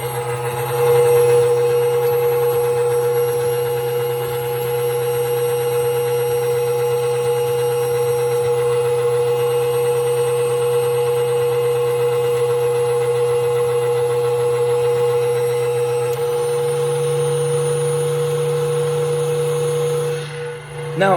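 A KitchenAid stand mixer beats batter with a continuous, fairly loud motor hum and a steady whine, shifting slightly in pitch near the end before it cuts off.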